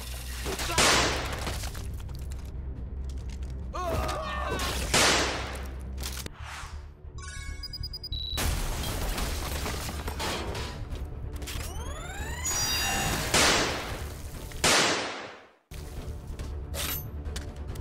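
Armed guards open fire in an animated scene, with repeated bursts of gunfire and sharp impacts alongside mechanical clatter, loud and close, broken up by speech and a brief pause near the end.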